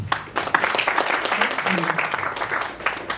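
Applause from a conference audience at a digital education and wellness event, continuing steadily under a speaker's voice, fairly dense with individual claps standing out.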